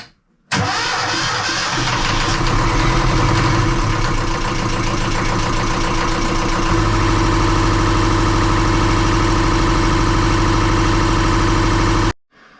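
A repaired boat engine cranks and fires at once, then settles into a loud, steady diesel-like idle close by. Its low throb shifts slightly partway through before the engine cuts off, with no talk over it.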